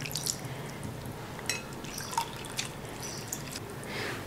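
Plain water drips and splashes softly as soured paneer curds are rinsed for rasmalai, giving scattered faint droplets and trickles over a low background hiss.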